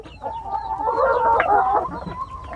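Hens cluck close by on a laying-hen farm in Lam Thamenchai, Korat, Thailand, a run of rising, throaty calls that swell and fade over a couple of seconds with no talk.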